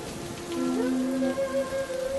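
Steady rain falls on a house roof, a continuous hiss with a soft tonal melody playing over it and no talk.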